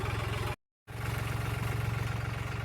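A tractor engine idles in a soybean field during spraying, a steady pulsing low chug that cuts out briefly near the start and then resumes at the same even rhythm.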